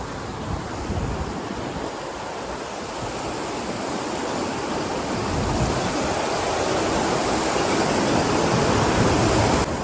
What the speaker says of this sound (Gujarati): આનો ખાલી તમે અવાજ સાંભળો એકદમ વહેતું પાણી છે